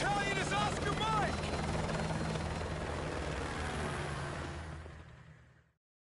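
A helicopter roars in Call of Duty Modern Warfare Remastered, a steady, heavy rotor thrum that carries under game voices and then fades out at the end.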